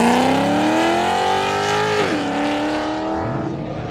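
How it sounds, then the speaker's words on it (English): Ford Mustang at a car meet revving hard, engine pitch climbing steadily then dropping and rising again in a loud, continuous, close roar with crackling from the two-step launch control. "Mustang two-step."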